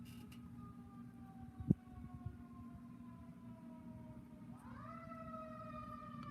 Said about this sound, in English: I hear a siren. It's way off.